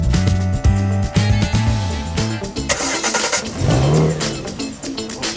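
Car engine starts and revs as the vehicle pulls away, loud and close, with rising engine tones and a brief tire squeal under a layer of music.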